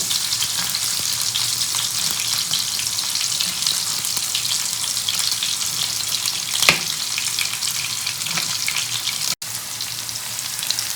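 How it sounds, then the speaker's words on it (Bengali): Onions frying in a pan give a steady, dense sizzle that runs close and even for the whole stretch, with a few faint stirring scrapes and no talking. "পেঁয়াজটা অল্প ভাজা হতে হতে"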